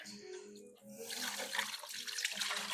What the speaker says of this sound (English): I'm going to take the pan. I'm going to pour it in here.